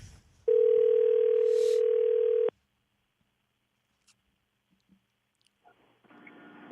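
A call is placed on a telephone and the line rings. One long steady ring tone sounds, followed by a short silence with faint clicks, then a second ring begins.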